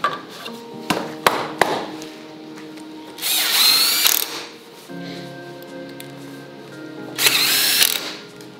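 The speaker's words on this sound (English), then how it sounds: "We're gonna lock these gate inserts in with stainless steel self-tapping screws" Power drill driving 1.5-inch stainless steel self-tapping screws into a PVC gate insert: a few sharp knocks, then two loud whirring bursts of the drill separated by a quieter steady motor hum.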